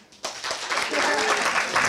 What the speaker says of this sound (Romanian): hai să aplaude